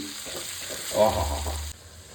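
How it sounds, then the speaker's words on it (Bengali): Onions for a mutton curry fry in a hot pan with a close, crackling sizzle. It swells as they are stirred, then cuts off abruptly toward the end. "এবার পেঁয়াজ দিয়ে দেবো ভালো করে একটু ভাব লালচে লালচে করে ভেজে নেবো পেঁয়াজটা"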